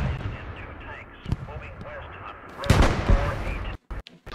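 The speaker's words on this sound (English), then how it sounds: "Somebody's shooting at me in the back" Heavy gunfire in the World War II shooter Hell Let Loose: a sharp shot near the start, then a louder cluster of blasts with rumbling echoes, over a steady background of distant battle noise.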